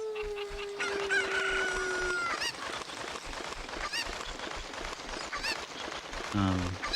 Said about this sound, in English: Alright, we got a random chicken here.